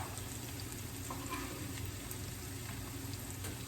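Chopped garlic fries in a pan with a steady, close sizzle and faint stirring scrapes, continuous and moderately quiet, with no talking.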